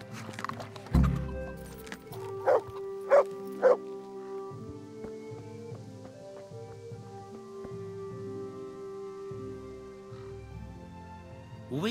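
In the video game Kingdom Come: Deliverance, a dog barks four times, with one bark near the start and a quick run of three soon after, each loud and close over soft background music.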